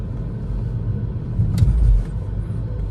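Steady low interior rumble of road and tyre noise inside a Volvo S60 Inscription on winter tyres while driving, with a brief louder bump in the middle and no talk.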